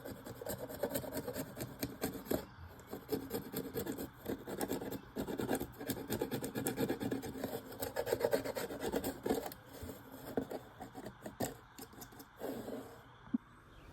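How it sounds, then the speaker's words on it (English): Dried glue being scraped off a wooden book rest for a craft-room desk, a steady series of rasping, scratching strokes at close range, continuous and fairly busy throughout with no talking. "I want to take off this glue first. Let's do that. I'll probably just scrape it off"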